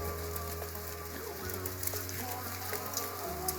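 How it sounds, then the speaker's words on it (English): Sleet that has been falling steadily since the night before, ticking and pattering softly on surfaces outdoors, a continuous faint hiss under a low steady hum. "Well, there's our sleet, steady coming in since"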